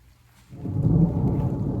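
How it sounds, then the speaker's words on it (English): A low, rumbling roar swells in after a quiet moment and holds steady, like distant thunder rolling in with rain. "Oh, you guys heard that? It's coming. The rain is coming."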